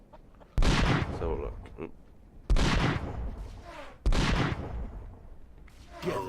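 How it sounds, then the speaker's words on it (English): Gunshots in the Western video game Sunset Rangers, fired among townsfolk, Union soldiers and gangsters: three sharp loud shots spaced a couple of seconds apart with ringing tails, a brief voice speaking between them. "They're shooting at me or they're shooting at each other?"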